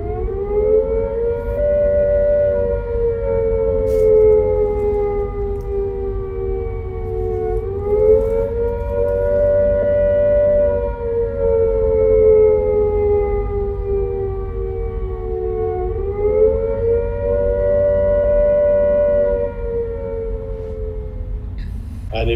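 A hand-cranked air raid siren sounds the attack warning, its loud droning wail rising and falling in long, repeated swells over a continuous low rumble.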